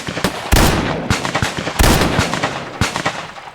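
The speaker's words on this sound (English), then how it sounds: "Jim's hit. So's Ed" Rapid gunshots ring out in a radio western drama set in the Old West, a string of sharp, loud cracks and booms fired in bursts over about three and a half seconds, with no voices heard.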